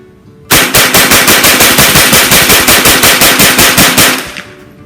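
Rapid, very loud gunfire from a Remington 11-87 shotgun or CMMG .22 rifle during test-firing at close range, a burst of evenly spaced shots lasting about four seconds before stopping abruptly.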